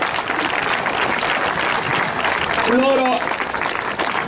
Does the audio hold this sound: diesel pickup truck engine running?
no